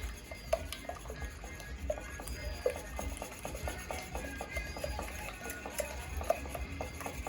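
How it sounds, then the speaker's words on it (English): Quiche filling being stirred in a bowl: soft, steady clinks and scrapes of a utensil against the dish, quiet and close, with no talking. "I'm going to mix that up a little bit."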